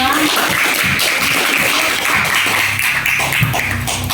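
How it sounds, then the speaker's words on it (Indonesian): A school class claps for a student group, quick overlapping hand claps close by, with a murmur of young voices underneath. "tepuk tangan untuk kelompok 2"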